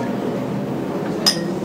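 Glasses clink once in a toast, a single bright chime near the end against a quiet room background.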